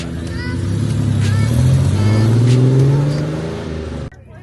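Nissan Concept Z car rolling into an outdoor Nissan gathering, its engine droning and revving up in a rising then falling sweep close by before cutting off, with people talking over it.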